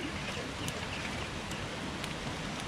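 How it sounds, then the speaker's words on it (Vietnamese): Steady hiss of rain falling outdoors in mountain forest, dense and even, with a few faint bird chirps in the distance. "Đây là trời mưa quá nè"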